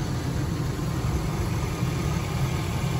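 A stock 6-liter Vortec V8 in a 2003 GMC Sierra Denali with Quadrasteer idles steadily, a constant low rumble heard close up in the engine bay with no speech.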